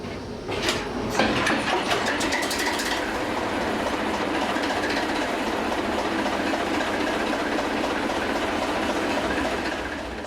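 A 600-horsepower Thumper diesel-electric train engine on the Welsh Highland Railway starts with a few sharp clicks and clatters, then settles into a steady loud mechanical roar with rattling, heard close up with no talking.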